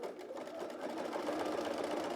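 A sewing machine runs steadily and close, its fast even whir stitching through three fabric layers about 3 mm from a pocket seam on a wrap dress, with no talk.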